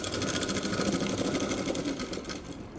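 A sewing machine runs steadily at close range, whirring with a fast even rhythm as it stitches the front darts of a blouse, then slows slightly near the end.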